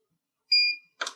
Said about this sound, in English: No hold is indicated by one beep, like so.